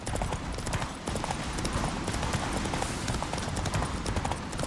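Rapid hoofbeats of a galloping horse in The Witcher 3, a dense continuous drumming with a steady loud rhythm throughout.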